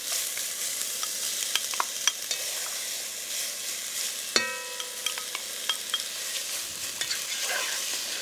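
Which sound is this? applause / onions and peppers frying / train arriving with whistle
onions and peppers frying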